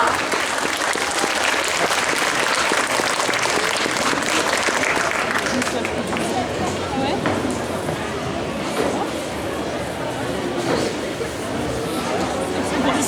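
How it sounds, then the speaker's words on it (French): An audience at a cosplay contest claps loudly, dense applause that eases slightly midway and continues steadily, with crowd chatter and voices mixed in. "On peut l'applaudir s'il vous plaît."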